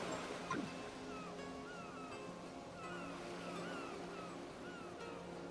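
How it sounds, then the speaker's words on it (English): Seaside ambience from the video game Paranormasight: The Mermaid's Curse, with a soft wash of waves under a low crowd murmur, plus thin chirping calls scattered across it, all at a fairly quiet, even level. "The sound of waves and the buzz from the onlookers fills the air around us"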